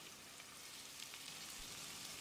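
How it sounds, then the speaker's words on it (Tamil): Two finely chopped medium onions and a few curry leaves sizzle steadily in a pan while cooking a goat head curry, a soft, even hiss with no talk. "வெங்காயத்தை நல்லா செவக்கிற அளவுக்கு வதக்கிடலாம்."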